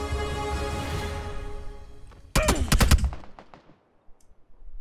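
Gunfire in the battle royale video game PUBG: a tight, rapid burst of loud shots with a sharp crack, following a droning background and trailing off into faint echoes and a few scattered clicks.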